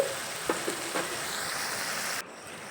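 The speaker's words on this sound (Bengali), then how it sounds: "এবার এই সব কিছু নেড়ে চেড়ে ভালোভাবে মিশিয়ে নেব" Rohu fish curry with papaya, potato, spices and black pepper frying in a pan over a medium gas flame, a dense steady sizzle with a few soft stirring knocks early, cutting down abruptly near the end.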